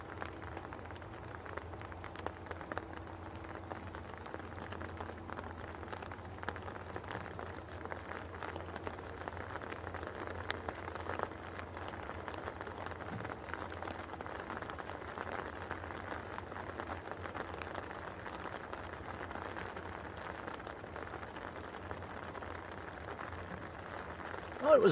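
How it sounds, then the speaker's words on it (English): Heavy rain with big drops pattering steadily on an umbrella outdoors at Manchester Airport, a dense, even hiss of impacts that holds for the whole stretch at moderate loudness. "you can probably hear on the umbrella, it's turning into proper rain now"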